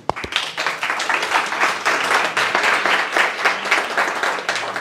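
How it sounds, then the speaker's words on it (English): A tech-talk audience applauds to welcome a data engineering manager to the stage, with a sharp clap at the start and then a dense, steady burst of clapping close by that lasts throughout. "please welcome him with an applause"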